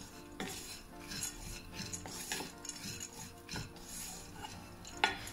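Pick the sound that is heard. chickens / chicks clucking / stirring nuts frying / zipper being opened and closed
stirring nuts frying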